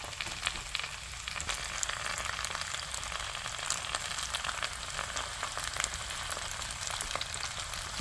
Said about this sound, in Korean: 안 타게 불을 중불로 해서 천천히 구워야 돼요